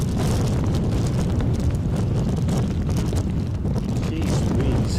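Strong gusting wind buffets an outdoor microphone at an Edinburgh plane-spotting spot, a dense, loud, continuous low roar and rumble filling the whole stretch without pause.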